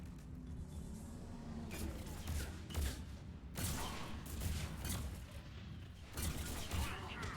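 Bursts of gunfire from the Falcon weapon in Mass Effect 3 multiplayer crack out in several separate volleys, moderately loud over a rumbling background, with a few seconds of quieter pause between them.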